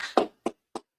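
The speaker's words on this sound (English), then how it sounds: "Clap it up." Hands clapping at a religious gathering: a few sharp, distinct claps spaced evenly, close and fairly loud against silence.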